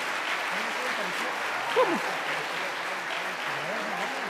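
Steady applause from an audience at a Catholic apologetics talk, a continuous even wash of clapping that holds the same level throughout, with a voice speaking faintly underneath.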